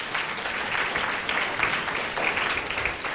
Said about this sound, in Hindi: तालियां तो बजने ही पड़ेगी।